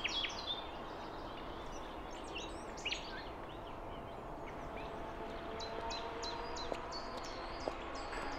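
Small birds chirp and tweet in short, high bursts outdoors, scattered over a steady background hiss, with one brighter repeated call pattern toward the end; the calls are fairly faint and no one speaks.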